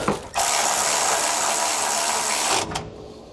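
A nut being run down with a ratchet onto the top mount of a SumoSprings Rebel custom helper spring on a 2018 Winnebago, giving a fast, steady mechanical clicking buzz that lasts over two seconds at close range, alone without talk.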